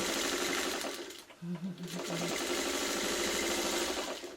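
A sewing machine stitching pieces of quilt fabric whirs in a fast, steady run, pauses briefly in the middle with a few short hums, then resumes its even mechanical stitching.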